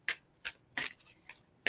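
A deck of cards is shuffled close up in a series of quick riffling bursts, about five sharp flurries spaced roughly evenly, with no talking over them.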